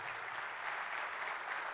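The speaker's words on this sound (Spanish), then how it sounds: "¿Cuánto le dan un aplauso al Señor por eso?" Church congregation applauding during a Spanish-language sermon, a steady broad wash of clapping sustained evenly throughout with no voices on top.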